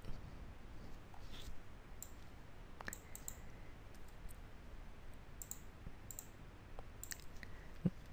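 A computer mouse clicks sparsely during drafting work, a handful of small crisp clicks spread unevenly over faint room hiss, quiet and close.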